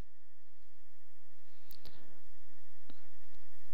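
Mouse clicks in engineering design software, a couple of sharp isolated clicks over quiet background hum.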